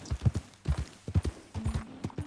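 Horse hooves clip-clopping in Red Dead Redemption 2, several close, loud bursts of paired hoofbeats in uneven rhythm, with a brief faint tonal whine near the end.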